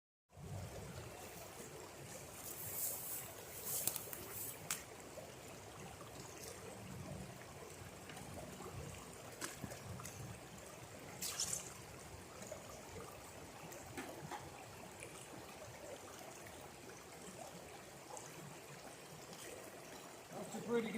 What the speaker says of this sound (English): we're gonna get the sluice box going here and run some of this